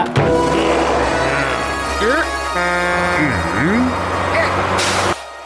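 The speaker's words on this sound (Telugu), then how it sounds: "మీకోసమే ట్రక్ వచ్చింది" A cartoon truck pulling up with hissing air brakes, engine drone and horn-like tones layered under a lively animated soundtrack with swooping effects, ending in a sharp brake release burst.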